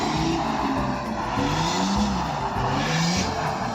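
A 2016 BMW 335d drives hard through turns, its engine droning loud and continuous while pitch rises and falls and the tires squeal briefly through the corners.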